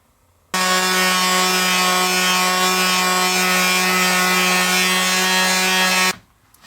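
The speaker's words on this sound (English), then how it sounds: "I'm going to give it a good sanding with a 1/4 sheet sander" A quarter-sheet power sander with 220-grit sandpaper buzzes loudly and steadily against wood, a constant droning whir that starts abruptly and cuts off after several seconds.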